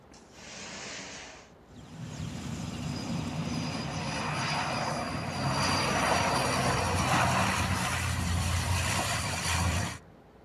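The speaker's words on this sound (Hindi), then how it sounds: "वायुसेना के आगरा एयरबेस से NN-32 विमान उड़ान भरकर चिन्याली सौड़ एयरपोर्ट पहुंचा, जहां लैंडिंग और टेक ऑफ का अभ्यास करीब 12 बजे तक जारी रहा" An Indian Air Force AN-32 transport aircraft lands and takes off at Chinyalisaur airstrip, its loud propeller and engine roar building and holding steady for several seconds before cutting off abruptly.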